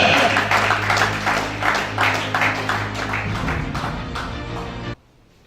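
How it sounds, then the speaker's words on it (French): A church congregation at a Gabonese worship service applauds in a dense, steady burst of clapping over a low sustained tone for about five seconds, then it stops abruptly into near silence. "Acclamez."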